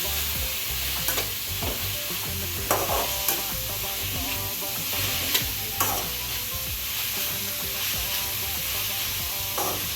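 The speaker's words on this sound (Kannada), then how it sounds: "ಈಗ ಇದನ್ನ ಲೈಟ್ ಆಗಿ ತುಪ್ಪದಲ್ಲೇ ಕರಗೋ ಥರ ಹುರ್ಕೋಬೇಕು." Ingredients roasting in ghee in a pan, with a steady close sizzle under repeated scraping and stirring strokes and a few sharper clinks of the spoon against the pan, no talking.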